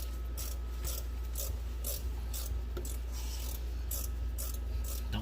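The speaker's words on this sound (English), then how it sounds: "I love my ratcheting wrench." A ratcheting wrench clicks in rapid repeated bursts while a Hurst shifter is installed in a Ford Mustang, close and steady over a low constant hum, with no talking.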